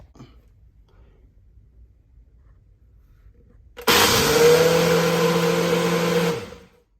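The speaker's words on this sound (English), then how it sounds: "It's because it's an 1100 watt motor, happens really quick, everything gets blended." Ninja BL 660 blender with an 1100 watt motor blending strawberries, protein powder, milk and ice: after a quiet stretch, a loud, steady motor roar starts abruptly and runs about two and a half seconds before spinning down.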